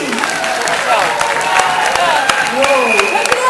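Studio audience applause on the Dutch TV game show Annie's Kettingreactie, a steady patter of clapping beneath a person talking over it.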